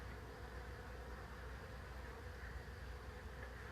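A swarm of bees hovers around a tree limb, making a faint, steady, continuous buzzing drone with no voices.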